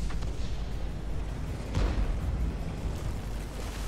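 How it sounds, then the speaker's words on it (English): An Object 268 tank blows up in World of Tanks, a low rumbling blast swelling midway over a constant heavy background drone. "Explosion!"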